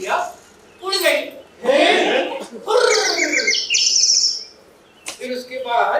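In a stage play, a bird's flight away is acted out with chirps and twittering calls in short bursts. They sound as if a performer's voice imitates the bird, and they come close and fairly loud against a quiet stage.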